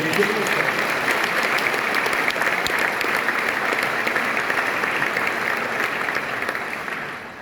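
At Slovenia's Sportsperson of the Year 2022 gala, the audience gives a long, even round of applause for Nika Križnar that holds steady and loud before tapering off at the end.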